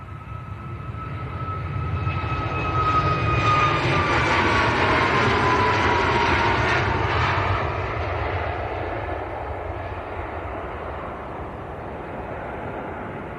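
A Ryanair jet airliner bound for Dublin roars past at Manchester Airport, swelling from a distance to a broad peak with a falling whine, then fading to a lower rumble.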